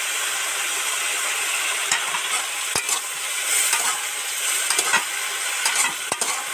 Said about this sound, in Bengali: নেড়ে চেড়ে মিশিয়ে দিচ্ছি।